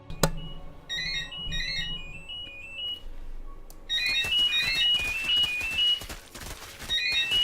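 A phone ringtone plays a repeating electronic melody in short phrased bursts, pausing briefly and then resuming, heard clearly with no talking over it.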